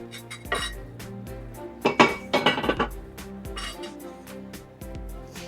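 Saffron risotto stirred in a pot, spoon scraping and clinking against metal in irregular bursts, close, with a scattering of sharp taps and no talk.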